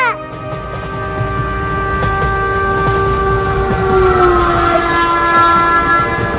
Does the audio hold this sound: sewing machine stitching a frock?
no